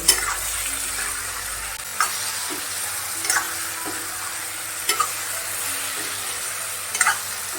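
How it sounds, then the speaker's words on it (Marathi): Stuffed ridge gourd with masala being stir-fried in a pan, a steady sizzle with spatula scrapes and taps recurring every second or so, close and without talk. "आता मी हे परतून घेते."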